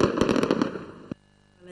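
Fireworks and firecrackers go off in rapid bursts of loud, overlapping pops and bangs at a year-end celebration, then stop suddenly, leaving near silence.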